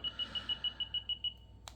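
A SHPAK portable drone detector sounds a rapid series of about nine even, high electronic beeps, clear and close, then falls silent apart from a brief click.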